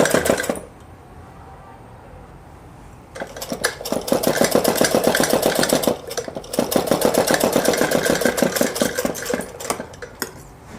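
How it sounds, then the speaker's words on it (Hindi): A sewing machine stitching fabric and piping along the neckline of a small girl's frock, heard as two loud, rapid bursts of rhythmic mechanical clatter, close up, separated by brief pauses and a quieter stretch at the start. "कपड़े को और पाइपिंग को बराबर लेते हुए इस तरह से सिलाई करते जाएंगे गले तक।"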